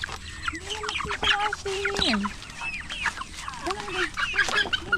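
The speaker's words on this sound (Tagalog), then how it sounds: "Mga manok mo na yan" A flock of chickens clucks and squawks nearby, overlapping calls coming in uneven bursts throughout.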